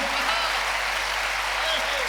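Audience applause at a Holi poetry recital in Kolkata, a dense, steady wash of clapping from a large crowd filling the whole stretch at close range.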